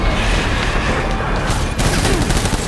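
Dense, loud gunfire from the Death Stranding Director's Cut video game, a rapid continuous barrage with a brief dip before the shooting resumes.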